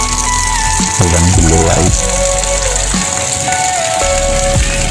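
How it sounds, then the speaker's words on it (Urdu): Steady rain patters on surfaces in a broad, continuous wash during a Friday afternoon downpour, with someone speaking briefly over it and a few tonal background sounds. "بارش جو ہے برس رہی ہے۔"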